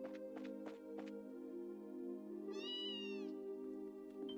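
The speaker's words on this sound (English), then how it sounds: "And there's a cat." A cat meows in the video game Trails in the Sky SC: a single clear, drawn-out meow rises over a steady droning game soundtrack with a few soft clicks, moderately close.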